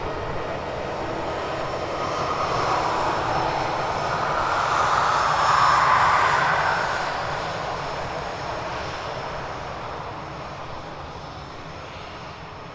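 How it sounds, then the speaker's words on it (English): A Lufthansa airliner makes a full-length takeoff roll at Edinburgh Airport, its jet engines a steady broadband roar that swells to a peak midway and then slowly recedes into the distance. "We'll stick with the lofty. Full length takeoff."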